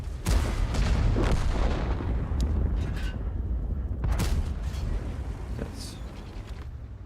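A heavy booming tank gun shot in World of Tanks rolls into a long rumbling decay, followed by another deep blast around the middle, loud and close.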